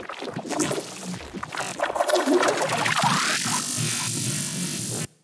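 Crispy, crackling foley textures made with the Portal plugin sit in the background of an electronic remix, a busy, grainy wash of clicks and sweeps that rises into a brighter sustained layer before cutting off abruptly.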